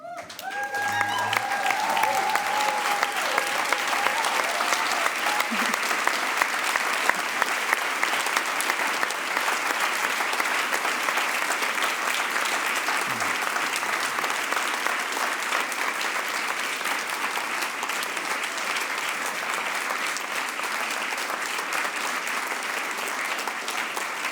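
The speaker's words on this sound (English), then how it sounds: "please stand up and give the biggest applause you can get" A large audience at a speakers night event at the European Forum Alpbach claps in sustained, dense applause that stays loud and even for over twenty seconds.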